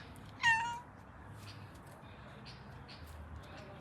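A single cat meows once, fairly close and clear, then quiet room tone with faint background noise follows; no talking is heard.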